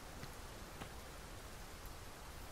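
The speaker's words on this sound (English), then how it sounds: "Oh, it's raining." Rain pours in the video game Dragon's Dogma 2, a dense, even hiss of falling drops with a few faint taps, quiet and constant throughout without any speech.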